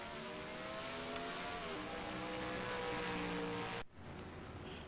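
Race cars in a NAPRA Holley HP Cup Series video game race at Las Vegas drone loudly and steadily as several engines overlap, their pitches layered together, then the roar cuts abruptly near the end into a thinner hiss.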